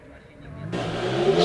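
A Porsche race car, likely a Cayman GT4 RS, launches off the line at a Prescott hillclimb, its engine note swelling suddenly into a loud, rising roar of hard acceleration after a quieter idle.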